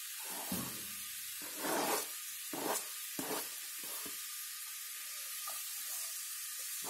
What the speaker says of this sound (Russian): наливаем масло, высыпаем сюда наш лук с морковкой, обжариваем немного.